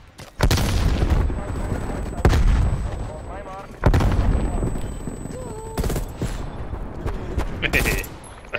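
Loud video game gunfire with heavy artillery-like bursts and repeated shots at close range, several booming blasts spread across the clip over a dense battle background, with faint voices underneath.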